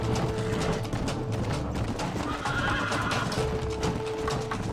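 In the Red Dead Redemption video game, a horse whinnies and its hooves clop steadily amid a dense, continuous layer of ambient game sound, mid-distance and fairly soft.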